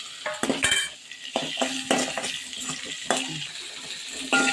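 Garlic, onion, curry leaves, cumin, fennel and pepper frying in a pan for a fish curry masala, a light sizzle broken by sharp scrapes and knocks of a spoon against the metal pan, close and irregular, with no talking.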